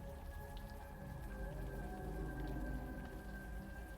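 Rain falls steadily in a park in the video game Unavowed, a soft continuous patter at moderate distance with a faint sustained tone beneath it and no voices.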